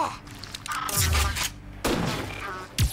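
Video game gunfire in Secrets of the Shadows, a few heavy shots and booms spaced across the moment, mixed with someone talking over the action.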